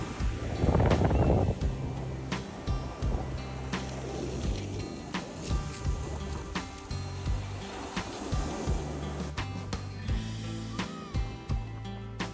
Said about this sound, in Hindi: हवा चल रही है बहुत मस्त वाली. वेव भी चल रही है बहुत ज़्यादा.